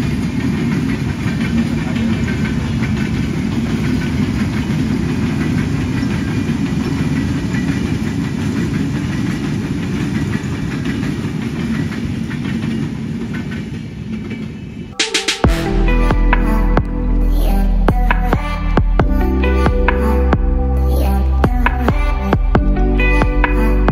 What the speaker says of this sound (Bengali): আমাদের চোখের সামনে কি এখন যে ট্রেনটি যাচ্ছে সেটা হচ্ছে বাংলাদেশ রেলওয়ের একটি